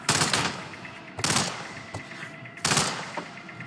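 Bursts of gunfire from the Hitman video game on a mission in Colorado, USA: three loud rapid volleys spaced about a second apart, with a sharp single shot between them and a faint background hum.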